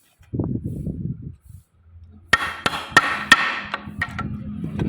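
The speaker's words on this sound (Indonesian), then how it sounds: "terus dipukul ya teman-teman menggunakan palu" A hammer drives a nut extractor onto a damaged bolt with several sharp, loud metallic blows in an uneven rhythm, after a short bit of low handling noise.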